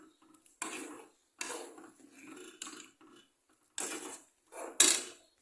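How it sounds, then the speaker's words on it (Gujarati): A spoon stirs jaggery into boiling milk in a metal pot, scraping and clinking against the sides in about five separate bursts with quiet gaps between them, close and clear. "હવે એની અંદર નાખી દેવાનો ગોળ અને થોડી વાર માટે ઉકળવા દેવાનું ગોળ ના ઓગળે ત્યાં સુધી હલાવતા રહેવાનું"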